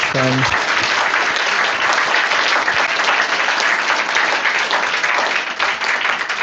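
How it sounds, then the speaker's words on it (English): Audience applause for volunteers at a devotional gathering, a dense, steady wash of many hands clapping that holds loud and continuous throughout, with a brief voice at the very start. "let's give a big round of applause to all the volunteers"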